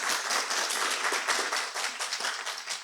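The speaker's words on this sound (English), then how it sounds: "Please give him a round loud of applause." Room of people at a Toastmasters meeting clapping for a speaker, a brief burst of dense, even applause at moderate volume that fades out after about three seconds.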